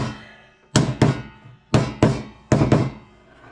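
Old, loose wooden pieces being tapped together with a hammer, six resonant thunks arriving in three quick pairs, close and loud, with no talking.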